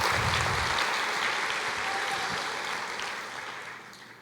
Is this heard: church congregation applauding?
yes